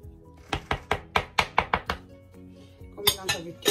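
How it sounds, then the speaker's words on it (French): Mashed potato being stirred with flour in a bowl for beignet dough, giving a quick run of about eight sharp utensil knocks against the bowl, a pause, then a few more scraping clatters, fairly quiet and close. "On mélange avec la farine."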